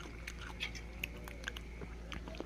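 Close, crisp bites and crunching chews on fermented mustard greens (buro na mustasa), a few sharp crackles spaced over a couple of seconds in a quiet room.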